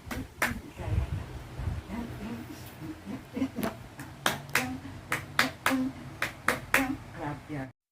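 A baby claps small hands, making a run of sharp, irregular slaps that grow more frequent toward the end, while an adult talks softly and encouragingly throughout.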